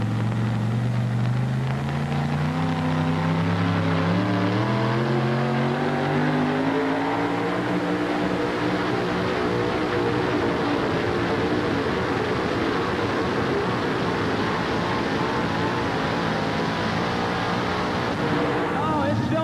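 A supercharged two-wheel-drive truck roars loudly at a 1988 truck pull in Louisville, Kentucky, the engine note climbing steadily and then holding at a harsh, sustained high-revving pitch. An announcer talks over it throughout.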